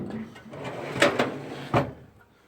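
A drawer on a Harbor Freight tool cabinet slides open or shut, giving a few sharp metallic clacks and rattles close by, with rustling handling noise around them.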